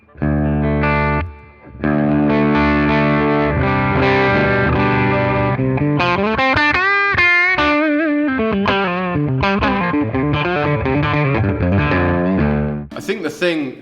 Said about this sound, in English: and then I'll throw in the boost real quick so you can hear that.